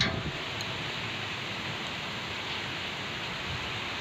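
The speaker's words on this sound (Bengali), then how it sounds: "কীরকম ঝমঝম করে আওয়াজ করছে শুনতে পাচ্ছ" Heavy rain pours steadily during Cyclone Remal, a dense, unbroken roar of drops hitting surfaces close by, loud and even throughout with no voices.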